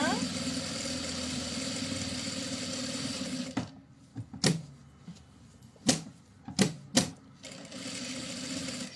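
A sewing machine runs a 5 mm seam around the edge of a fabric pouch, with a sustained run for several seconds and then short stop-start bursts.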